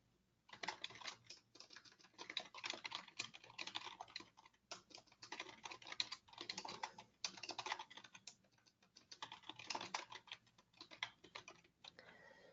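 Quiet, rapid clicking of keys on a computer keyboard comes in uneven bursts with brief pauses, close and faint, with no talking.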